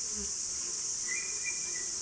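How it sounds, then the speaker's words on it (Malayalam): Wild honey bees buzz continuously around a hive, giving a dense, steady drone with a few louder passes close by and no voices. "ഈച്ചകൾ"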